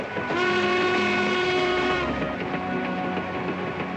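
A train rolls steadily along the rails with a constant rumbling drone and sustained tonal whine, no voices.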